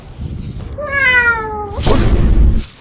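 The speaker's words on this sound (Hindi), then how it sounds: "इस साला शेर के साथ बिल्ली क्या कर रही है?" A single clear cat meow sound effect, a drawn-out falling tone, followed by a low thump and a short burst of noise.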